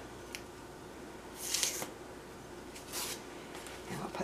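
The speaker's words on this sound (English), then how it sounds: "And we'll take off this sticker." A sticker is peeled off a doll's outfit in two or three short, soft rasping pulls, close and quiet against a faint background hush.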